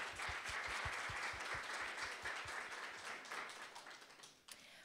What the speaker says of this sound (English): Let's offer a round of applause for all those who have gathered here today.